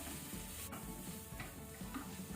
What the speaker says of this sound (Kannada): ಇದನ್ನೀಗ ಲೋ ಫ್ಲೇಮಲ್ಲಿ 1 ಮಿನಿಟ್ ಹೀಗೇನೆ ಫ್ರೈ ಮಾಡಿ